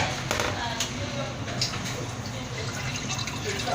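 Water escaping through the overflow of a newly installed office shower, a steady gurgling trickle and splash close by, with someone talking over it.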